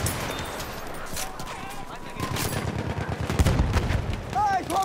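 Machine gun fire in the Battlefield 1 video game, rapid bursts of shots close by amid battlefield noise, with shouted voices over the firing.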